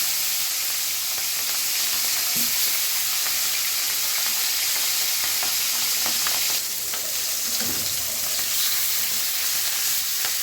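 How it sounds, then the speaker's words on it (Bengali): Boal fish pieces fry in hot oil, giving a continuous dense sizzle and hiss with occasional soft clinks from stirring, heard alone without talk. "মাছগুলো ভাজা হয়ে তুলে ফেলতে হবে, খুব বেশি ভাজবে না, হালকা করে।"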